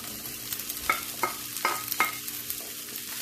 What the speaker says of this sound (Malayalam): നമുക്കിനി ഇതിലേക്ക് അരിഞ്ഞു വെച്ചിരിക്കുന്ന പയർ ചേർത്ത് കൊടുക്കാം